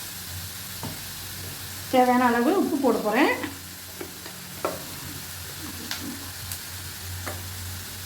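Pineapple pieces for chutney sizzle in a pan and are stirred with a scraping burst partway through, then settle into a quiet frying hiss while someone talks.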